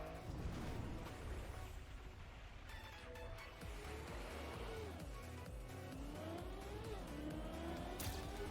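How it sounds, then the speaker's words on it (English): A rally car driven in a video game, its engine revving continuously with rising and falling pitch and gear shifts, plus tire noise, loud and steady for the whole stretch with no talk. "this is rally car"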